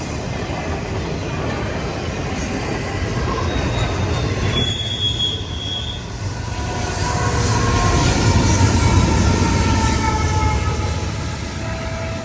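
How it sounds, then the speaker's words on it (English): A freight train with DPU locomotives rumbles around the Wilbur Curve in Easley, South Carolina, with loud, high-pitched wheel squeals rising and falling over the continuous roar of rolling cars. "The combination of squealing train wheels on bending track and this upcoming pair of DPUs was deafening."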